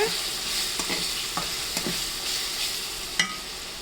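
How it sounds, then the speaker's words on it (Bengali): Ginger-garlic and spice paste fries in oil for a homemade duck curry, a steady close sizzle broken by repeated scraping stirs of a spatula against the pan. "মশলাটা একটু কষাই নেই আদা রসুনটা কষানো হয়ে গেছে"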